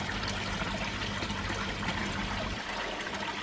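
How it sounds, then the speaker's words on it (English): Water in a koi pond flows and trickles steadily, with a continuous close-up babbling rush and a low rumble and no voices over it. "Water flows quite nicely around there"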